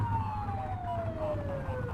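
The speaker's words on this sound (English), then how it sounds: "Get on their tail and blip the siren." A police car siren blipped in the video game The Precinct, a single falling electronic wail with faint harmonics over a low rumbling engine, loud and close.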